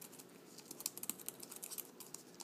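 Quiet, uneven tapping on a QQ Tech iPad Mini case Bluetooth keyboard, keys clicking rapidly in short bursts up close.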